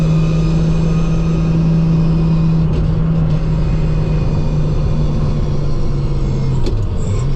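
Nissan Skyline R32 GTR with a sequential transmission driving, heard from inside as a loud, steady engine drone and road roar at constant speed, with a brief dip in pitch near the end.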